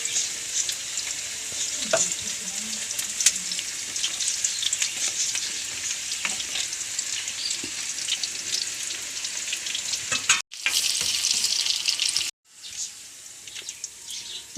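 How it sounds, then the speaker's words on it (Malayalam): Onions frying in hot oil in a clay pot, a steady loud sizzle with occasional stirring scrapes and clicks, continuing alone with two brief dropouts near the end. "ഇനി എണ്ണ കാഞ്ഞ് അതിൽ ഉള്ളി ഇടാം."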